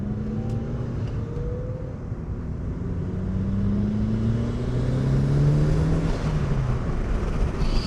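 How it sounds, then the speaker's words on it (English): A Mitsubishi Lancer Evolution V engine revs up through rising pitches, with a faint high whine of turbo whistle over the deep, steady motor roar. "There's a lot more turbo whistle"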